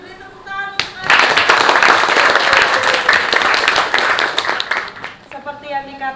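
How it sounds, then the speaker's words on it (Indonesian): A classroom of students claps together after a teacher's call, a dense burst of applause lasting several seconds, with the teacher's voice heard before and after. "beri tepuk tangan untuk"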